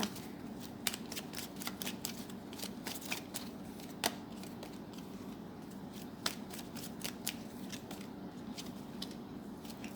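Tarot cards shuffled by hand, a long run of quick crisp riffling snaps and flicks at an uneven rhythm, close but soft, with a low steady hum underneath and no talking.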